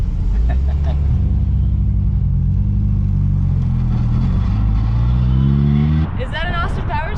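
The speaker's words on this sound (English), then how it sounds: "we're doing the route in this little tiny MG Midget, which is a small British car" A small British classic MG Midget drives along Route 66, its engine a loud, close drone that rises and falls through the gears, with an unclear voice briefly heard near the end.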